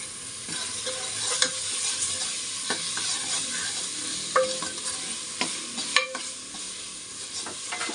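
White rice frying in oil with garlic and ginger paste, a steady sizzle punctuated by the scraping clicks of a spatula stirring, close and alone with no talk.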